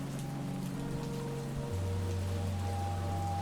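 Heavy rain pours down at a graveside in a steady, dense hiss with no breaks, loud and close, and no one speaks over it.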